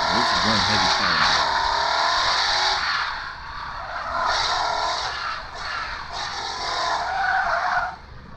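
Tires squeal continuously as a heavy car drifts in the racing game Drift Max Pro, loud screeching bursts that dip briefly and return, layered over engine roar, with someone talking through it.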